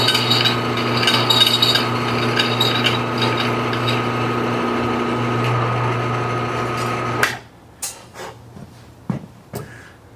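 A power drill bores into a stuck steel chainring bolt on bicycle cranks, a loud steady whirring grind for several seconds that stops abruptly, followed by a few sharp metallic clanks and knocks.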